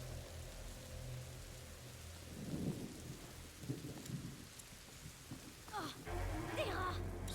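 Thunder rumbles amid steady rain in the video game A Plague Tale: Innocence, with a couple of low booms in the middle and a heavier, louder rumble near the end, no talk over it.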